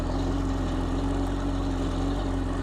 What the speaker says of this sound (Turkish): Bu şekilde jetimizi ortalama 2 ila 3 dakika çalıştırıyoruz.